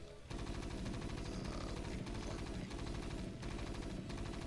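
Rapid, continuous machine-gun style firing from a StarCraft marine shooting at SCVs in a Terran base, a dense unbroken rattle that fills the whole stretch with only a brief gap at the start.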